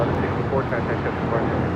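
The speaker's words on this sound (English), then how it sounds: "This is United Airlines 1164 taking off to Washington Dulles on a 737-800." A United Airlines Boeing 737-800 taking off from Los Angeles, a loud broad jet engine roar heard from a distance under a voice.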